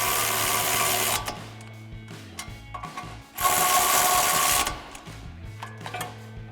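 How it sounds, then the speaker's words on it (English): A ratchet with a 15 mm socket tightening bolts while installing brake rotors on a 1999–2002 Ford Mustang, with two sustained bursts of rapid clicking and some scattered tool knocks, loud and close, with no voices. "we'll go ahead and tighten these down with our 15 mil socket on our ratchet"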